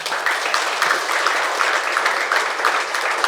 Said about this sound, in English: I think this is the time for clapping.